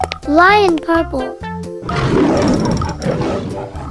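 A cartoon lion roars loudly in an animal fountain crossing game, a long rough burst following a child-like voice calling out words, with the voice and roar close and prominent.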